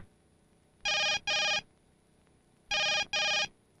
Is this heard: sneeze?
no